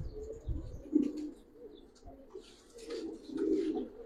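A Giribaz tournament pigeon coos close by in a low, throaty rolling call, repeated a few times with brief pauses, plus a faint rustle and soft chirps in the background.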